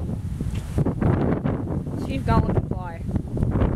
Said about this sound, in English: really windy out.